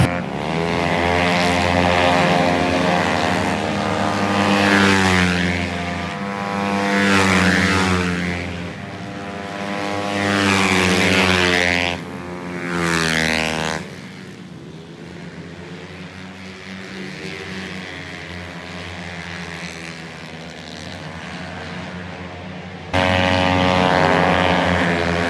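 Small 130cc open-class race motorcycles scream through a race, high-pitched engines rising and falling as bikes pass, loud and near for a stretch and then more distant.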